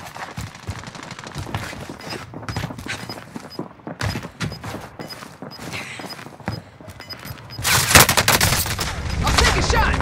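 Rapid gunfire from a PKM machine gun in the battle royale game Warzone, with bursts of shots layered over game sound effects and a brief spoken line; the fire grows louder and denser near the end.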